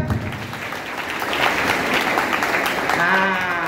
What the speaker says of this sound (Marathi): एकदा आई बाबांसाठी टाळ्या देऊया जरा.